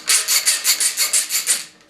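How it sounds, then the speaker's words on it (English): A ratchet screwdriver loosens a screw from a PC case near the power supply, giving about nine quick, evenly spaced rasping clicks that stop short, close and clear with no talking. "ratchet screwdriver"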